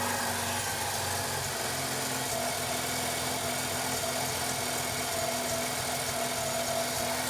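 A Mazda RX7 rotary engine idles on a dyno, a steady, even drone with a low buzzing pulse that holds constant throughout with no voices.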